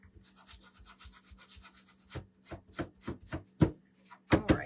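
A wooden craft kit piece being sanded by hand, heard as a fast series of soft scratchy strokes that gives way to slower, louder rubbing swipes up close.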